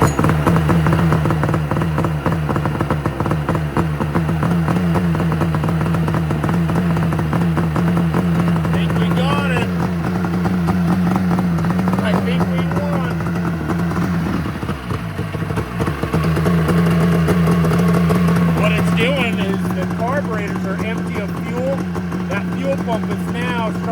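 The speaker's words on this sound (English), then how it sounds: "Pump is now starting to fill up the carburetor, so it's running on fuel rather than the starting fluid." A 1993 Yamaha Thundercat motorcycle engine runs close and loud at a steady, rough idle, switching from starting fluid to carbureted fuel. It dips briefly midway before settling again, with a voice talking over it.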